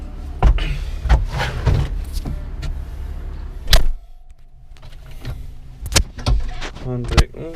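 A forklift's engine rumbles low and steady in a lambing shed while sharp clunks and rattles of the driver climbing aboard and handling the controls break in close by.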